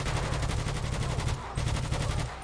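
Rapid automatic gunfire from GTA V rattles in dense, continuous bursts, loud and close, with a brief pause midway before the firing resumes.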